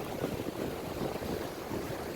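Waves roll onto the shore at a beach in Mariveles, Bataan, making a steady low wash and rumble mixed with wind buffeting the microphone, with no clear voices.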